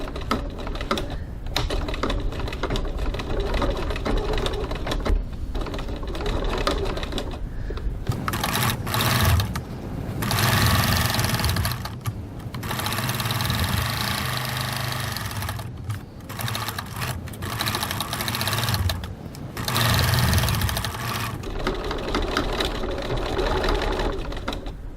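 A sewing machine stitches a crossbody bag's lining at a 3.4 stitch length, running in loud rapid bursts with brief pauses between runs, close and alone with no talk.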